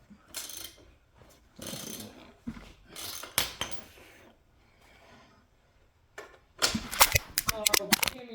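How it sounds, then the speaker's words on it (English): A ratchet and wrench work the chain adjuster on an X-pro Ice Bear Rogue Grom-clone motorcycle, producing irregular bursts of sharp metallic clicks and clanks separated by quiet gaps. "you need a wrench on one side and a ratchet on the other."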